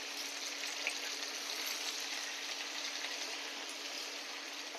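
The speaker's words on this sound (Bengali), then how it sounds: "এবার নাড়াচাড়া করবো" Spices with turmeric are stirred in a frying pan, giving a steady, soft sizzle with faint scraping, an even hiss that runs unbroken at moderate distance.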